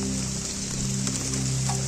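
Steady rain falling during a walk in Bali, a dense continuous hiss under a low background hum, with no voices.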